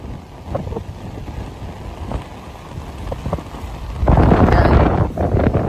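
Strong wind buffets the microphone on a beach footbridge, a steady broadband roar with scattered gusty thumps that swells sharply louder in the final seconds, with no talk.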